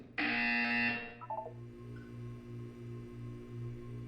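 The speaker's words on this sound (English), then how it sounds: "When you hear the buzzer, look up at the ceiling." A loud, harsh electronic buzzer in the video game Portal 2 blares for about a second, then gives way to a low pulsing hum and a few soft blips.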